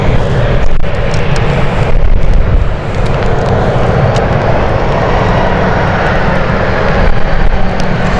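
A fixed-wing airliner's engines roar at London City Airport on a stormy evening, a loud, steady broadband rumble that holds throughout with no pauses.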